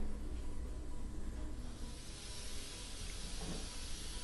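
A pressure cooker holding mutton kulambu lets off steam, a steady broad hiss that holds for several seconds with no talking.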